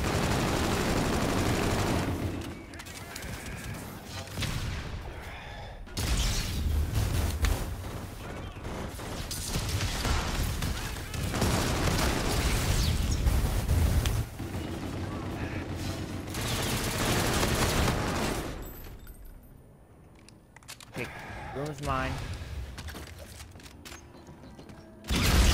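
Video game firefight with grenades being thrown, dense and continuous gunfire bursts with heavy blasts running almost the whole time, easing briefly near the end, with players talking over it.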